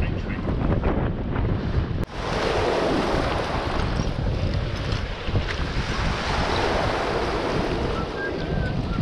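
Waves wash steadily against a riverbank on a mudlarking foreshore, a continuous rushing surf mixed with heavy wind buffeting the microphone and a brief knock near the start.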